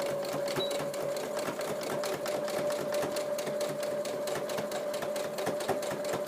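A sewing machine runs steadily, stitching a quarter-inch seam in fabric for a memory bear's head, with a continuous close whirring hum and rapid needle rhythm and no talking.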